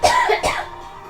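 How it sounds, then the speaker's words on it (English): A single close cough, quickly followed by a second shorter cough, with no talk. "That was a cough."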